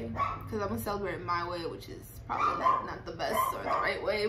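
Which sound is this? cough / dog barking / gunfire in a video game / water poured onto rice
dog barking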